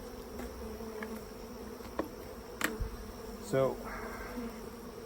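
Honey bees buzz around an opened queen castle hive, a faint steady hum with a few louder close passes and one brief word spoken nearby.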